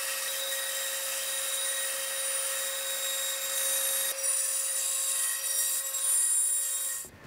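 A bandsaw cuts through a carbon fiber board with a steady, bright whine and rasp that carries on for several seconds before cutting off abruptly near the end.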